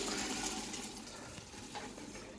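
Steady watery rushing and splashing as water is poured off and drained away while making pasta e fagioli, continuous and close throughout.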